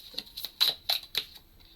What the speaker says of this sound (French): On va aller en sortir d'autres et recouvrir ces belles cartes